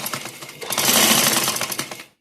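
A sewing machine stitches a girl's Eid frock, its fast needle chatter running steadily and close for about two seconds before stopping abruptly.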